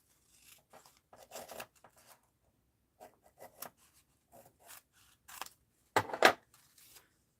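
Scissors cutting paper for a mixed-media art journal, heard as soft, irregular snips and rustles that come in short clusters with quiet gaps between them, ending in a louder, sharper pair of cuts near the end.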